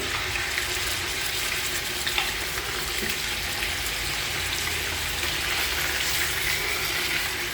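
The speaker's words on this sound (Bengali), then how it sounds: "ঘি দিয়ে আগে মাংসগুলো ভাজবো" Beef pieces fry in hot ghee in a pot with a steady, even sizzle and crackle that stays close and constant, with no voices.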